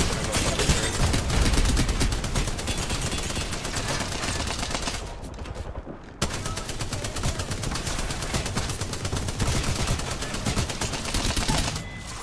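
Rapid automatic gunfire in a video game, loud dense bursts firing almost nonstop, breaking off briefly midway before resuming at full intensity.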